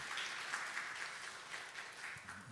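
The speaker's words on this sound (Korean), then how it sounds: "우리 성가대 위해서 감사 박수 한번 합시다." A church congregation applauding the choir, steady soft clapping heard from a distance and blended into one continuous wash.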